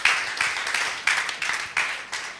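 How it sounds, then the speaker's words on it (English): Audience applause at a tech conference, DevFest Owerri 2021: a steady crowd of clapping hands, fairly close and even, with rhythmic surges through the clip and no speech. "Another round of applause for him, please."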